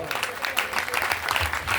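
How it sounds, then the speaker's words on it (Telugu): A church congregation claps loudly in praise of God, a dense, steady burst of applause with scattered voices and cheers mixed through it. "చప్పట్లు కొట్టి గట్టిగా దేవునికి స్తోత్రం చెబుదా"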